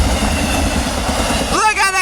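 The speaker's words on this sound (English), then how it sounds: "So we got a southbound stack train." A southbound double-stack freight train passes at about 60 mph on the Salt Lake subdivision in Clearfield, Utah, its K5HL-horned locomotive ahead. There is a close, heavy rumble with rhythmic wheel clatter, and an excited voice rises at the end.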